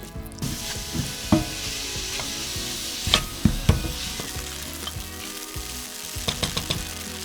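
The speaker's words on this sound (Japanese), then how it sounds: "熱したフライパンに崩しながら入れて、 中火でしっかりと炒めて水分を飛ばします。" Crumbled, pressed tofu stir-frying over medium heat in a hot frying pan, a steady close sizzle broken by sharp scraping and stirring knocks, with no voices.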